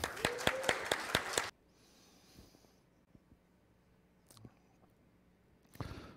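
A conference crowd claps for a keynote speaker at a telecom event, a dense burst of applause that cuts off sharply after about a second and a half, leaving quiet room noise with a few faint knocks and a short rustle later.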